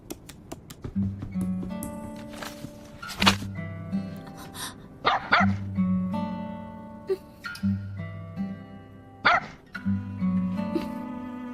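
A dog in an anime gives a series of short barks and yips with whimpering tones, spread in bursts over a soft musical background with no talking.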